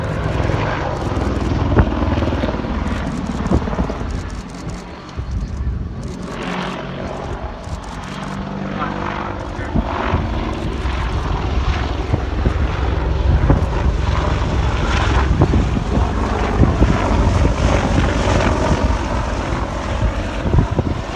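An Apache helicopter flies a display at the 2017 Cosford air show, banking through wingovers. A loud, steady roar of engine and rotor runs throughout, swelling slightly as the aircraft turns, with no voices.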